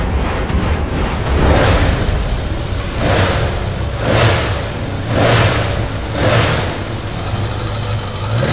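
A Münch Mammut motorcycle fitted with a car engine revs repeatedly, with several rising blips of the throttle at an even rhythm over a steady idle, close and loud.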